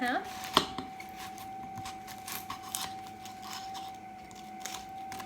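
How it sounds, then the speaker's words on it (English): A knife cutting an onion in half on a cutting board in a home kitchen, a few sharp clicks and taps against the board over a steady background hum, fairly faint. "But I am going to cut this onion in half."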